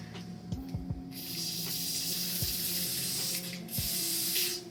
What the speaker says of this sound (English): So I'm just gonna go ahead and spray this in my lace.